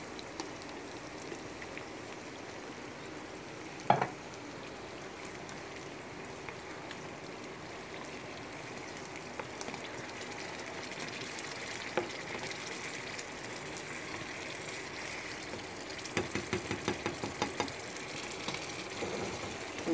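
Tomato purée poured into refried beans in a hot pan gives a steady, close frying sizzle with a crackly hiss. It runs the whole time with a few brief clicks and small bursts near the end.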